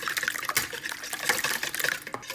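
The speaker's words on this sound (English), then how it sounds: "measure out your oil and eggs in a bowl and whisk together" Oil and eggs whisked together in a bowl for carrot cake batter: quick, wet, sloshing strokes with light clinks, steady and close, with no talking.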